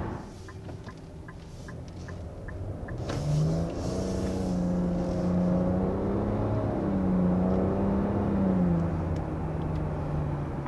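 A 2023 Nissan Rogue with a continuously variable transmission pulls away, its engine note rising smoothly and holding a steady drone rather than stepping through gears, heard from inside the cabin with no talking.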